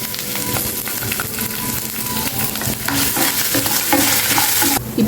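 Ginger pieces frying in hot oil for semolina pulihora, giving a steady close sizzle with bursts of crackle and the scrape of stirring throughout.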